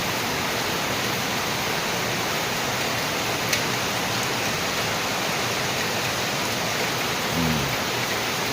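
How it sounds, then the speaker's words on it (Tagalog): Heavy rain pours down before dawn in a dense, steady hiss, loud and unbroken throughout, with no voices over it. "Sobrang lakas talaga ng ulan."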